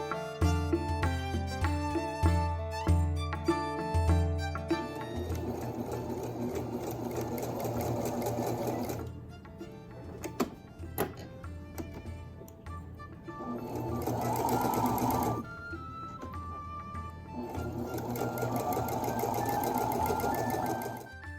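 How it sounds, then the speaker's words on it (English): A sewing machine stitches a gathered seam on a linen Renaissance camicia, running in steady bursts with brief pauses between them, loud and close with no talking. "I'm okay with just an okay gather that I stitch in by machine."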